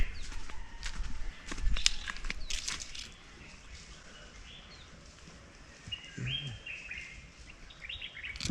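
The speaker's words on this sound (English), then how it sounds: "Two birds at the top." Birds chirping in mango and baobab trees during a morning walk in Casamance, Gambia; scattered high calls and tweets come and go at moderate distance over a steady outdoor background, with footsteps early on.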